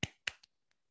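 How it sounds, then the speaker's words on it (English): Two crisp hand claps a quarter second apart, followed by quieter taps trailing off, close and dry, like the opening of a bell-pattern rhythm. "if you can clap like the bell pattern"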